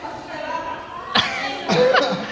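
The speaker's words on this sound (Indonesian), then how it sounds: "Batuk." A person coughs a couple of times up close, sharp bursts following a short stretch of quiet, murmuring voice.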